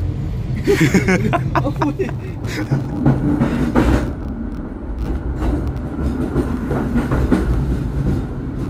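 A Kutojaya passenger train rolls along the rails in Indonesia with a continuous low rumble and rhythmic clacking, heard from on board while people chat nearby over the noise.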